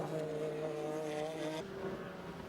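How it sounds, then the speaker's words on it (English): Porsche 911 GT3 RS race cars at an American Le Mans Series race at Sears Point go by with a loud, high wailing engine note that drops in pitch as they pass. "Familiar sound of the Porsches."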